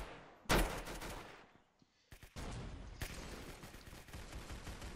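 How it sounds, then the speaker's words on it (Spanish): A grenade launcher in a video game fires with a sharp, loud blast, followed by a pause and then more booming shots and rumbling explosions. "Este es el Grenade Launcher."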